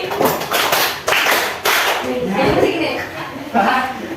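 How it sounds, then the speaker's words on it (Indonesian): A class of students claps in unison in a classroom, with loud sharp bursts of group clapping separated by short gaps. "tepuk 5 kali."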